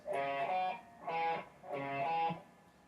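Distorted electric guitar plays a riff three times in a row, each phrase a thick, sustained burst with short gaps between, close and clear with no talking.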